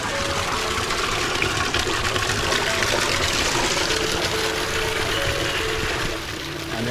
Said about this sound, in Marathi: गायमुखातून पाणी सुरू पडतं.